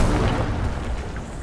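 A burst of fiery spell effects from an Incendio cast in Hogwarts Legacy, a loud, dense, rumbling whoosh with booming low end that sustains for the whole moment, with no talk over it.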